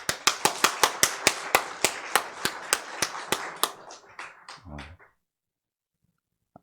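A few people clap in a sparse, sharp, fairly even rhythm at a New Year's Eve church service. The claps slow and thin out, then stop, leaving near silence.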